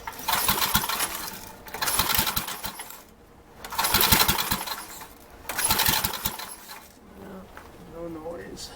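Troy-Bilt Horse tiller engine, muffler removed and fuel pump disconnected, cranked in four loud rough bursts of a second or so each, separated by brief pauses, without catching and running.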